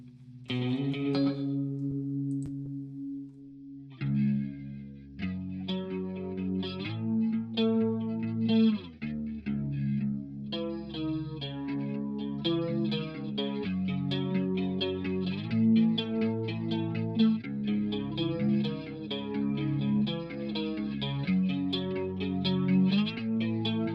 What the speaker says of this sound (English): we could try a chorus actually